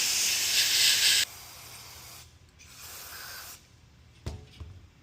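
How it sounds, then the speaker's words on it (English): Chemtech carburetor cleaner sprays in a loud steady hiss onto an RV generator's carburetor for about a second, then fainter intermittent hissing and a couple of small clunks follow. "clean it with the carburetor cleaner"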